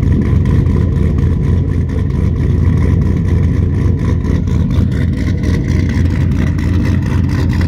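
A car fitted with an aftermarket camshaft, a muscle-car style modification, rumbles loudly and steadily with a lumpy, pulsing engine note throughout, heard close with no talk over it.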